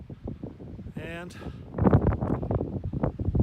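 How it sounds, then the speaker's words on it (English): Strong wind gusts buffet the microphone on a high mountain in Mt. Rogers high country, rumbling and roaring in bursts beneath a man's speech. "But it's definitely windy. It is definitely windy."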